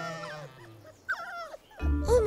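Dogs yip and whimper in short, rising bursts, with a louder spell of whining at the end, in a playful cartoon-style scene where the dogs are called back to heel.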